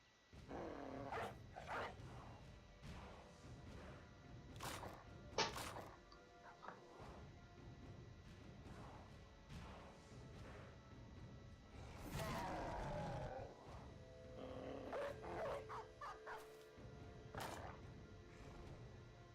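Dogs barking and snarling in the video game Battle Brothers, short scattered bursts of growls and yelps mixed with clashing combat sounds at moderate loudness.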